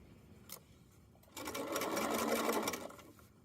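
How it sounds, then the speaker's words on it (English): A sewing machine stitches a 1/4 inch seam on a fanny pack back panel, with a quick tap and then a short, steady whirring burst of about a second and a half, fairly quiet and close. "I'm going to keep sewing that 1/4 inch seam allowance"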